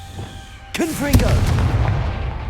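A Confringo blasting spell explodes in Hogwarts Legacy, a sudden loud boom followed by a rumbling fiery tail, with a voice speaking briefly over the start of the blast.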